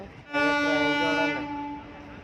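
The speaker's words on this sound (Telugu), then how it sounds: "నేను ఉండగానే రెండో ట్రైన్ వచ్చేస్తుంది" A train horn at Rajahmundry, near the Pushkar ghat, sounds one sustained, slightly wavering blast for over a second before fading.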